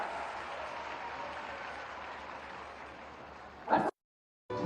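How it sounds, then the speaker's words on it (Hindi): A large crowd claps in welcome at an employment and loan fair in Moradabad, giving dense, even applause that holds steady and then breaks off abruptly near the end. "जोरदार तालियों के साथ स्वागत"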